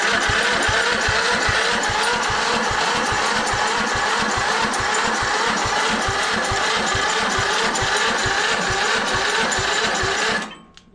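The engine of a broken-down zero turn mower cranks without catching, a loud, fast, even chugging rhythm that holds steadily for about ten seconds before cutting off abruptly.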